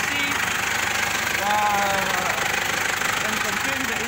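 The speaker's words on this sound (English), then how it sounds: "My engine is running." A car engine idles steadily with an even, continuous hum and a faint knocking pulse, close and loud throughout.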